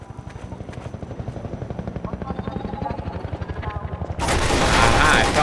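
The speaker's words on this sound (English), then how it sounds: "In this map, designed as a dash from cover to cover under helicopter fire" A Half-Life 2 helicopter hovers close overhead and fires at the player, its rotor pulsing in a fast, even thump before a loud, dense burst of gunfire takes over at the end.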